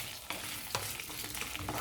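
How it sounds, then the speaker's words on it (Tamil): Cut okra sautéing in hot oil in a pan, with a soft steady sizzle and a few sharp stirring knocks, close and quiet. "இப்போது இதில் எண்ணெய் காஞ்சதுக்கப்புறமா நம்ம கட் பண்ணி வச்சுருந்த வெண்டைக்காய் ஆட் பண்ணிக்கோங்க."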